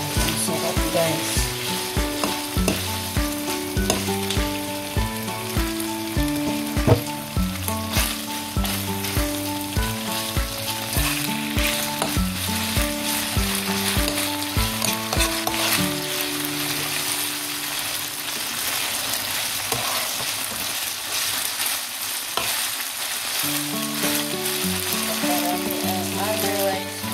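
Beef tapa sizzles and fries steadily in a pan, slightly burning, with a dense constant crackle over background music and a few brief stirring scrapes; no speech.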